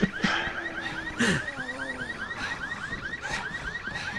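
A car alarm in the video game Resident Evil 6 wails in a steady cycle of rising, repeating tones, with a few brief thuds and clatters underneath.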